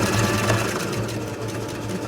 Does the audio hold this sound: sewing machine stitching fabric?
yes